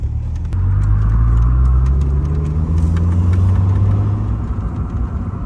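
A 1989 Chrysler LeBaron GTC turbo engine runs loud and close, with an uneven surging drone that rises and falls and occasional light clicks over the steady rumble.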